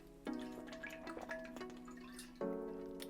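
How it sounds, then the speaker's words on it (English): Fresh water runs from a filter into a Yeti water bottle, a steady trickling pour with a couple of sharp onsets as the stream starts and shifts, close and clear with no talking. "I start filling up my Yeti water bottle with fresh water from the filter as well"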